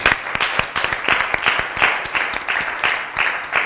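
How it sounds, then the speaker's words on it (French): Loud, close audience applause for guests from an orphanage at a French-language event, with sharp individual claps mixed into a continuous clapping crowd. "Je vous demande de les applaudir bien fort."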